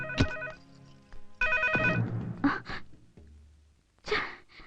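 A telephone rings in short, trilling bursts that start and stop, mixed with breathy sighs and gasps in a quiet room.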